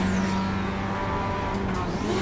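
Engine of a GTE race car in a racing video game, a steady droning whine with shifting harmonics as it slows for braking, loud and continuous with no voices.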